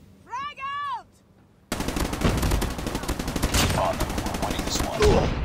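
Rapid automatic gunfire in a Call of Duty Mobile ranked match, loud continuous bursts of shots after a brief electronic warble, with a player's voice briefly audible beneath.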